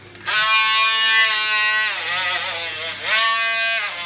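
A rotary brush on a power tool strips paint from a die-cast Dinky toy, a Foden tanker, Leyland flat or Foden drop side lorry, giving a loud, close, steady high-pitched whine that dips and rises as the load changes.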